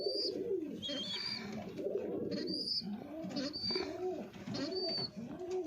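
Pigeons in a loft coo in soft, repeated rolling calls that overlap from several birds at close range, with faint higher chirps mixed in and a low background murmur.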